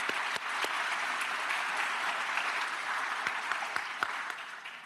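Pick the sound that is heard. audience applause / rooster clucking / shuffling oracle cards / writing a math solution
audience applause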